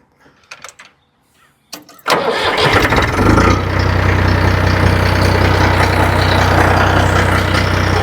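A farm tractor engine starts after repair work: a few clicks and a brief crank, then the engine catches at once and settles into a loud, steady idle that runs close by.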